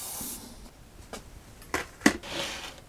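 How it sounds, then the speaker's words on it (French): An aerosol can of rust converter sprays onto metal in a few short hissing bursts, close up, separated by brief pauses and small clicks. "Une fois de plus, je mets mon convertisseur de rouille, il m'en reste peut-être un de ces 4. J'arrive à terminer cette bombe."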